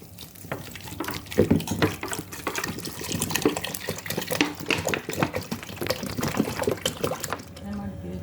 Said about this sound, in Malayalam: ഇനി ഇതിനകത്തോട്ട് നമുക്ക് 1 ലിറ്റർ വെള്ളം ഒഴിച്ചു കൊടുക്കാം